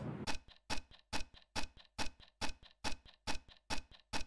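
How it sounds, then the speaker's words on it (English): Bright, dry clock-like tick from a synth track repeats about ten times at a steady brisk pulse, each hit crisp and close with a short decay, standing alone without voices. "Again, that's not a hi-hat, it's basically a clock sound."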